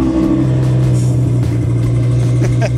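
A V10 car engine revving from inside the car, a loud, steady, deep drone that holds throughout with only slight swells in pitch.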